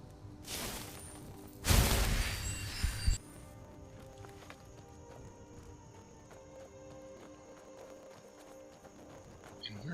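Horse hooves clip-clop in the Skyrim video game, a few quick loud steps near the start, then quieter ambience with faint hoofbeats and a low background hum.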